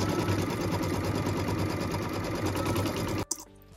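An embroidery sewing machine stitches a tack down line through felt on stabilizer, a loud, steady rapid needle rhythm running close up for about three seconds before stopping abruptly, followed by a brief clack and quiet.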